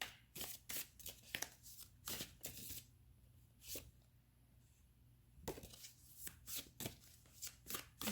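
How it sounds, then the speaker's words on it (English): Tarot cards are shuffled close up in quick, soft riffling bursts and taps, irregular in rhythm, with a quieter stretch in the middle before the shuffling picks up again. "Let me reshuffle these more."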